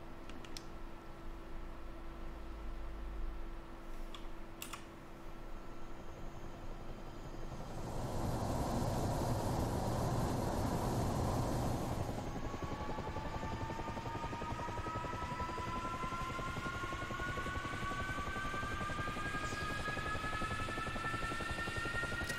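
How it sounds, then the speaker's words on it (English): A JF-17 jet engine in the DCS flight simulator spools up on its jet fuel starter, a steady broadband roar that swells in the middle, then settles into a rising whine that climbs toward idle, heard alone for over twenty seconds. "It uses a jet fuel starter, much like the F-16 does."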